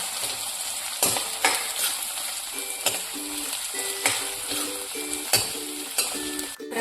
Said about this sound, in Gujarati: કાંદાને થોડા સતળાવા દઈશું।